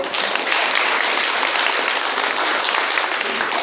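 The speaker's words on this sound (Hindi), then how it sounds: "तो इसलिए तालियां बजाते रहिए।" A crowd at a Hindi-speaking community organisation gathering claps loudly and steadily, a dense, continuous wash of applause filling the whole stretch with no speech over it.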